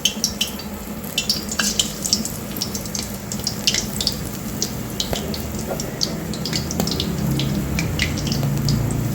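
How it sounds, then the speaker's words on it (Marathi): Spinach pakoras deep fry in hot oil, a steady crackling sizzle with frequent sharp pops and spatters that builds slightly over time, close up with no talking. "आता इथे आपण पकोडे तळून घ्यायचे आहे."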